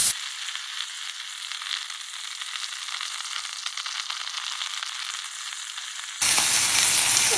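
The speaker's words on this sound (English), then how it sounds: "Oh, it's just sizzling away well." Curry ingredients stir-frying in a pot over high heat with melted fat, a loud, dense crackling sizzle that holds steady and then briefly intensifies near the end, no talking.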